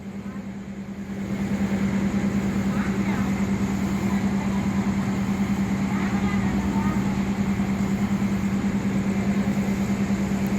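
Diesel railcar NKF 1260 at Wongwian Yai station in Thailand, a loud steady engine drone with a strong low hum that swells after the first second and holds, a voice speaking over it.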